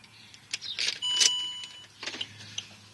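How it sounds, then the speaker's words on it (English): Electronic warning chimes from a 2007 Land Rover Discovery 3 as the ignition comes on, a few short tonal bings sounding close inside the cabin over a low idle-like hum, with no talking. "Obviously lots of bings and bongs."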